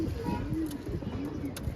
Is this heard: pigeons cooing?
yes